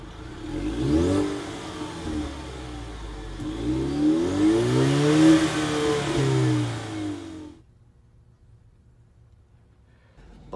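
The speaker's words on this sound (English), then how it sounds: "Let's just go ahead and start this bad boy up and take her out." A 2023 Ford Mustang EcoBoost Premium convertible engine cranks, catches and revs in loud rising and falling sweeps for about seven seconds, then cuts to a quiet idle.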